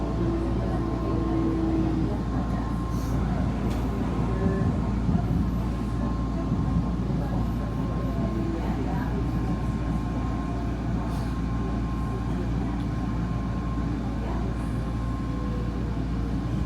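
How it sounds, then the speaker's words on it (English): A SkyTrain sits in a station while a steady, loud low rumble and hum fill the space. A faint tone persists through it, with occasional light clicks, and no voices are heard. "There must be a train in the station."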